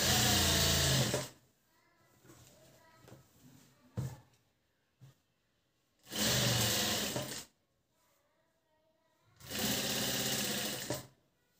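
A sewing machine stitches a neck binding strip onto a garment in three loud, steady bursts separated by pauses filled with faint handling and rustling.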